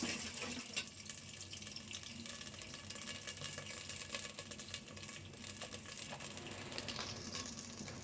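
A little water poured onto spices in a cooking pan gives a faint, steady sizzling hiss and splashy trickle, with light crinkling and clinks close by, no voices.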